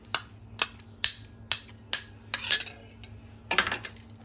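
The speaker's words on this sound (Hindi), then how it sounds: "तो ये 2 चम्मच हम इसमें डालेंगे" Spoonfuls of pure ghee go into a pan for Rajasthani ghevar batter, with a steady series of about nine sharp metal spoon clinks and taps against the pan, evenly spaced and close up, with no talking.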